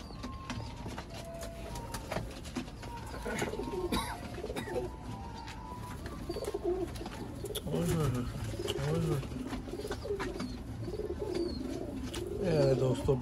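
Pigeons cooing in soft repeated low murmurs, close by, with scattered chirps and background rustle, while voices speak intermittently.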